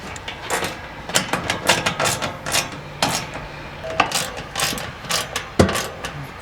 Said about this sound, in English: now I'll put the nuts on and tighten it all up